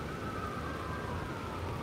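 A distant ambulance siren echoes faintly through steady rain near the White House in Washington DC, a thin sustained wail riding over the constant hiss of the downpour.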